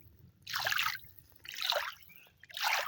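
Clear water in a forest stream trickles and splashes in three distinct surges about a second apart, close and moderately loud, with quiet gaps between them.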